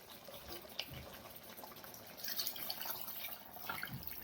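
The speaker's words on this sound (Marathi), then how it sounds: "तर याच्यामध्ये आपण पाणी ओतून घेणार आहोत." Water pours and trickles into a cooking pot of fried chicken biryani base, with soft drips and splashing building in the second half; fairly quiet and close.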